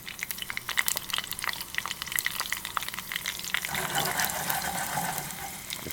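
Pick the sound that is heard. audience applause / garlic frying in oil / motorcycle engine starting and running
garlic frying in oil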